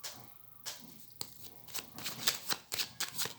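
A deck of tarot cards is cut and shuffled by hand, with a series of crisp riffling bursts and soft card slaps that grow busier toward the end, close and fairly quiet, with no talk.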